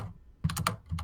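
Typing on a computer keyboard, a few quick key clacks in a short cluster after a soft tap, close and dry with no voices.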